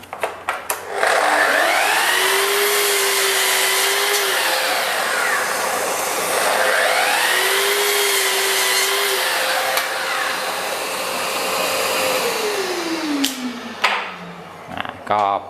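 A Festool KS 120 REB Kapex sliding compound miter saw whines steadily as it cuts through 20 mm wood in two long passes, then spins down, with a few clanks at the end.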